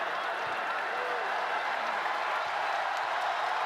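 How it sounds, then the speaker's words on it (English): Basketball arena crowd noise during a PBA Commissioner's Cup Finals game, a dense steady roar of many voices with scattered claps and cheers, continuous and broad without any clear peaks. "Crowd beginning to get rowdy."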